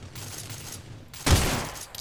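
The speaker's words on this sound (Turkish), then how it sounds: "ben sıkıyorum" Gunfire in the mobile battle-royale game Rules of Survival: low background rumble, then a single loud shot burst near the end that rings on briefly.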